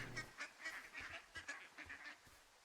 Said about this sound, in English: Those sounded like actual ducks.